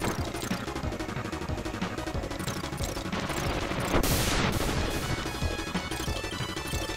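Dense, continuous rapid-fire crashing and explosion effects from a boss's background attack in the SNES game Kirby's Dream Land 3, loud and unbroken, with a sweeping whoosh partway through.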